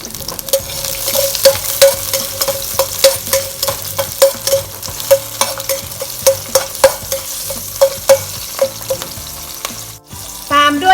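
Garlic and bird's eye chilies sizzle steadily in a hot pan while a utensil scrapes and taps in a regular stirring rhythm, close and continuous.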